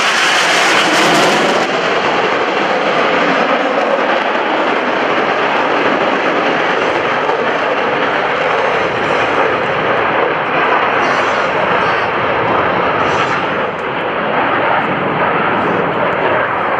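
US Navy Blue Angels jets in a 2012 air show flyover, a loud continuous roaring rush of jet engine noise that swells and holds as the aircraft pass close overhead.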